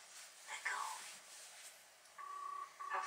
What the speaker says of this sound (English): For God's sake, answer the phone!